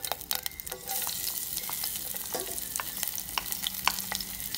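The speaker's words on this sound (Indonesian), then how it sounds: "Lalu kita masukkan sedikit minyak. Nah, kita mau numis." Chili and shallots sautéing in a little oil over medium heat, a continuous crackling sizzle with sharp pops and occasional stirring scrapes, close and moderately loud.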